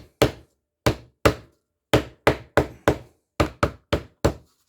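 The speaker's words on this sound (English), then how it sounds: "Just take it easy tapping them on there." Wooden knife handle scales are tapped down onto pins, about a dozen sharp, close knocks in an irregular rhythm with silence between hits.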